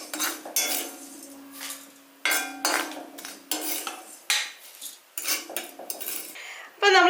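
A metal spoon scrapes and clinks against a pan and bowl in repeated bursts, scooping roasted flattened rice and black gram into a vessel, close and fairly loud with short pauses between strokes.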